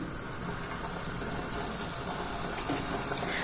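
Soft, steady sizzling and hissing of dough frying in hot oil, fairly quiet and continuous with faint crackles.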